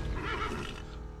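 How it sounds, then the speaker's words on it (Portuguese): A bad-tempered horse in the Western video game Call of Juarez gives a loud, close, harmonic neigh that lasts about a second and slowly fades. It is heard alone. "You riled Hurricane again. Don't take much. Horse has a temper as bad as chats"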